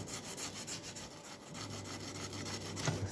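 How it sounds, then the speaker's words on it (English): Sandpaper glued to a high-density foam block rubs back and forth over a damaged foam glider wing, making rhythmic, close, scratchy strokes at a steady pace with no talking. "I just glue it on and just gently"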